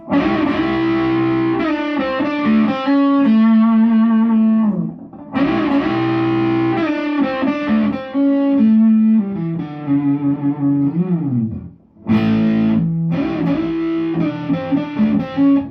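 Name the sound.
electric guitar blues lick with vibrato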